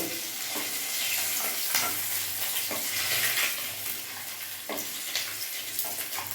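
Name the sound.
fish heads frying in oil, being taken out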